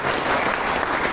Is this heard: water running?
no